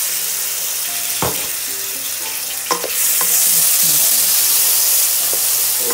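Garlic-ginger paste sizzles and fries with onions in a pan for a keema mince dish, a steady close hiss with a few stirring knocks, louder in the second half.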